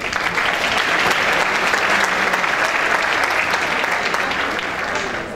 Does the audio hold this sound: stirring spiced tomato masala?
no